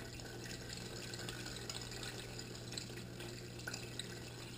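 Water flows steadily through a 6-inch gold sluice box, washing material and black sand out in a quiet, continuous rushing with light splashing and trickles, heard alone without talk.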